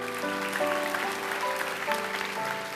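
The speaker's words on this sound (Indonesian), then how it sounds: "Beri tepuk tangan untuk Tuhan." A church congregation applauds during a sermon, a steady rush of clapping laid over sustained keyboard music.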